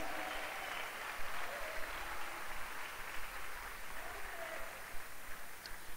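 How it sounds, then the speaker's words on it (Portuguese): A church congregation applauding during an evening worship service, sustained moderate clapping that is fairly distant and roomy, with faint voices mixed through it. "Aplaude."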